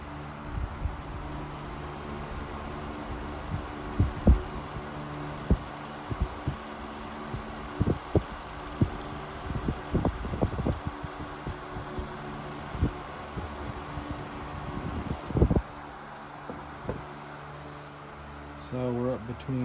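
Sanyo Dynamic Wide 12-inch oscillating fan, model EF-6KP, runs with a soft steady airy whoosh of blade noise close by, while a person talks over it with occasional bumps and handling thuds.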